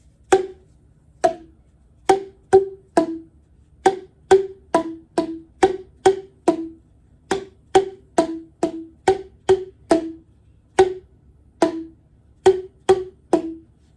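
Hollow tuned plastic tubes struck one at a time, tapping out a bright, steady melody of short pitched knocks with brief gaps, close and clear.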